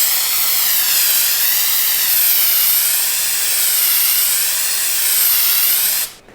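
Spray paint hissing from a can onto a Tesla Model Y logo, a loud close continuous spray held for about six seconds that cuts off abruptly at the end.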